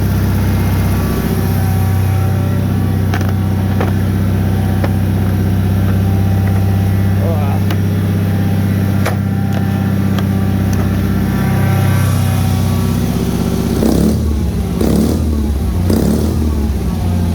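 A Bolens HT-23 lawn tractor engine runs loud and close in -40 degree cold, droning steadily with several revs and pitch shifts, plus clicks and rattles near the end.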